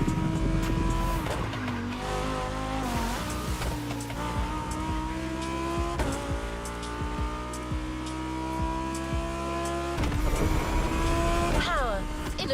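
Lamborghini cars racing in The Crew Motorfest, with loud sustained engine tones gliding up and down, repeated tire squeals and skids, and bursts of acceleration layered with game music throughout.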